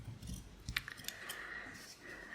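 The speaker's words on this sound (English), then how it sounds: "So I'm going to cut a piece slightly bigger than I need" Scissors snip through a sheet of paper being trimmed for a handmade ephemera holder's front cover, giving a few faint, quick cutting sounds over a quiet room.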